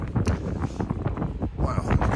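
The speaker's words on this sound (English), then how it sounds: "I've got to get back to the boat because it's so bloody windy." Gusty storm wind beside a moored narrowboat buffets the microphone in uneven rumbling bursts, loud and close, with a faint low hum beneath.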